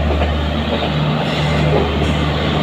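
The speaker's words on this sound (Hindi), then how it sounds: "हरिद्वार के अंदर हम एंटर हो चुके हैं आ चुकी है हमारी ट्रेन" A train arriving at Haridwar railway station after running late, a steady loud rumble with rail clatter and a low engine hum throughout, near and continuous.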